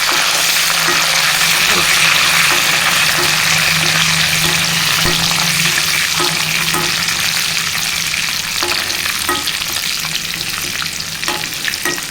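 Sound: curry leaves frying in a pan for chutney

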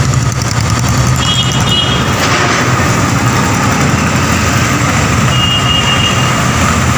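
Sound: road traffic in Borivali West

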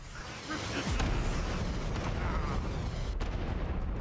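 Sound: missile explosions in VR video game Hot Dogs, Horseshoes & Hand Grenades

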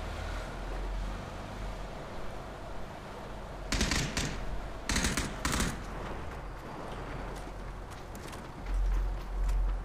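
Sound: gunfire in the video game PUBG

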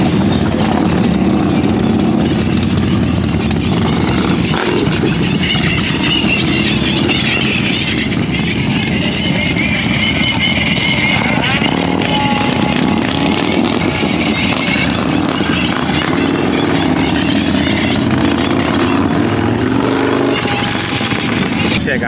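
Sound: motorcycle engines at Daytona Bike Week

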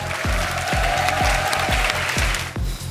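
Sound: studio audience applause

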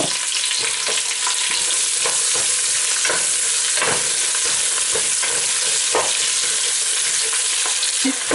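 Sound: chopped onion frying with whole spices

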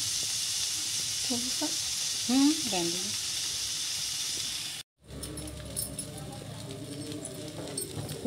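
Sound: peas frying in a pan

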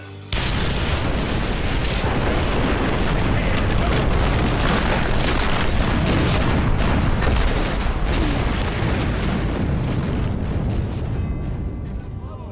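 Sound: explosion blowing up a bunker in the video game Valiant Hearts

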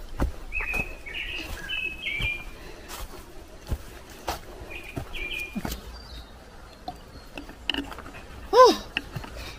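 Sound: birds singing

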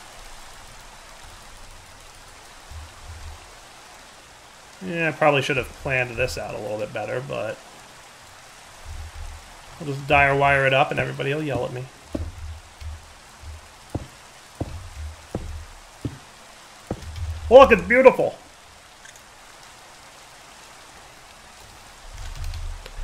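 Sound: rain in a video game

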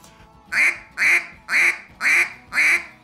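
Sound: duck call imitating a mallard hen's alarm call

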